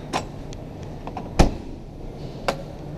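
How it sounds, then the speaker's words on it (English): Heavy entry door of a 2016 Airstream Classic 30J travel trailer shutting with a solid, close thud, flanked by a few lighter clicks and latch taps before and after in a quiet interior. "Love the sound of a high quality door closing."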